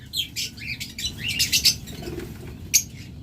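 A pair of green opaline lovebirds flutters in a cage, giving short bursts of wingbeats and rustling mixed with sharp chirps, close and fairly loud across a few seconds.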